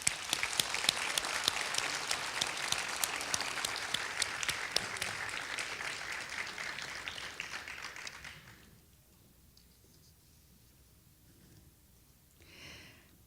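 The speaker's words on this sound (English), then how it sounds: "so please give them a round of applause" Audience applause at a youth human rights awards ceremony, a dense, steady clapping that fills the room for about eight seconds and then stops abruptly, leaving quiet room tone with a faint stir near the end.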